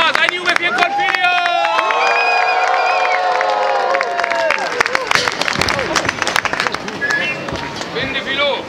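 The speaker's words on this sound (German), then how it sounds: "Ein anständiger Jubel, ja?" A crowd cheers and shouts loudly and steadily at a juggling show at a medieval market in Siegburg, with excited voices rising over the roar and fading toward the end.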